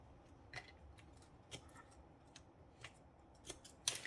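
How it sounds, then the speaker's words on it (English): Scissors snip a small piece of acetate up close, a series of quiet, crisp clicking cuts at irregular intervals against a soft, near-silent background. "we cut a small piece of acetate"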